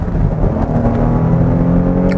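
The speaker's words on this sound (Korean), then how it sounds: "우렁찬 엔진음과 함께 6000rpm에서 변속이 되었고" A Kia Carnival Hi-Limousine nine-seater with an eight-speed automatic pulls hard under heavy acceleration. The engine note rises loud and close in a short, strained revving burst.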